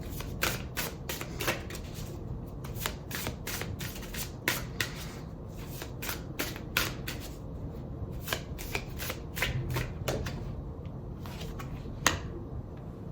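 Tarot cards are shuffled by hand in repeated quick riffling bursts, close and crisp, continuing steadily with brief pauses and no talking.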